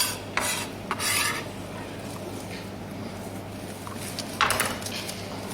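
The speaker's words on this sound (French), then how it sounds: "On mélange tout ça." A utensil scraping and stirring citrus zest into other ingredients in a bowl, steady soft rasping with a few sharper clinks against the bowl, close and alone without speech.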